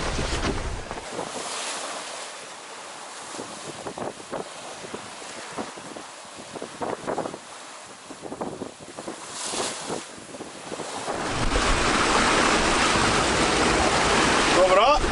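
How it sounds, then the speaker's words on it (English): A sailboat under way at sea, with waves washing against the hull and wind buffeting the microphone, rising to a steady louder rush near the end; faint voices speak briefly. "We are sailing. We're pushing 7 knots."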